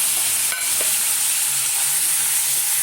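Tomato, peanuts and tamarind frying together in a pan for a chutney, giving a loud, steady hiss of sizzling with a couple of light utensil clicks near the start.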